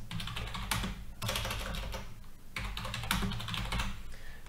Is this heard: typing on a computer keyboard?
yes